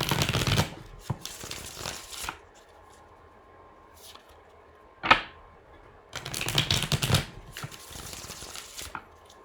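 Tarot cards are shuffled close by in several quick, crisp riffling bursts separated by quiet pauses, with a single sharp tap in between.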